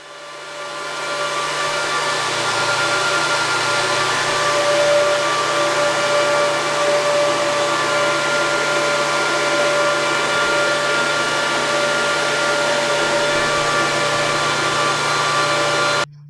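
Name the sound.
cryptocurrency ASIC miner running loudly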